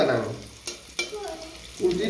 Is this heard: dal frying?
yes